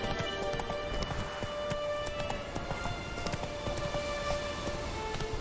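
Roach the horse gallops in a video game, a quick, even rhythm of hoofbeats clattering close by over a steady background hiss, with no talking.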